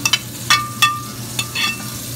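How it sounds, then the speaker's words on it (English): Shrimp etouffee sauce stirred in a sizzling pan, with a spoon scraping in several distinct strokes over a steady close frying hiss. "Stirred in the etouffee sauce."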